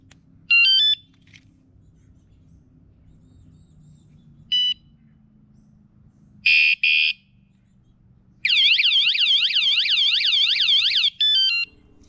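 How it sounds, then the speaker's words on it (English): Short electronic chirps and beeps from a bicycle alarm, then a loud warbling siren sweeps up and down for a few seconds, followed by more beeps, heard close. "if your alarm is placed in a bag like this, that is going to muffle the sound a little bit"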